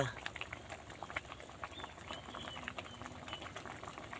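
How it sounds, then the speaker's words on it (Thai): Broth with meat and bones boils in a pot, a dense, steady bubbling and popping close by at low volume, with no break. "กำลังเดือด ปุดปุดปุดปุด"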